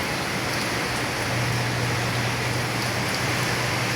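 Steady rain approaching outdoors, a broad, even hiss of falling drops with a low rumble underneath, continuous and fairly loud with no talking.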